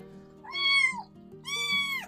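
A small, timid but fierce farm cat fed fish beside rice paddies gives two loud, drawn-out yowls, close to the microphone, with a low steady hum underneath.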